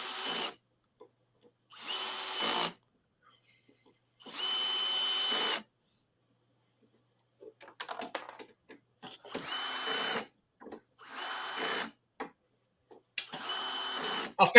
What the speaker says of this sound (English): Just me drilling a bunch of linear rails on.